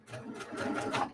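A sewing machine stitching quilt piecing over a pin, a brief close mechanical whir of rapid needle strokes lasting about a second.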